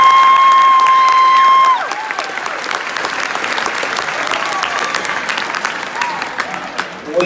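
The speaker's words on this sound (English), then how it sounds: "Please give them a round of applause." A junior high Christmas band concert audience claps steadily and fairly loudly, the applause rising after a brief electronic tone fades out, then slowly thinning toward the end.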